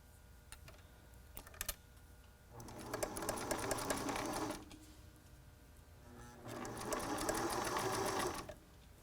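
Sewing machine stitching a T-shirt face mask with elastic, in two sustained whirring runs of needle strokes separated by quiet pauses with a few clicks, close and steady.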